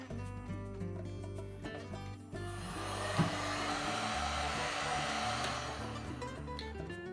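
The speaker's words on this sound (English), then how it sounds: "we'll take a heat gun or a blow dryer and we'll shrink that tubing across those butt splice connectors" A heat gun blows with a steady, airy whoosh that swells partway through as it shrinks tubing over butt splice connectors, accompanied by faint handling clatter.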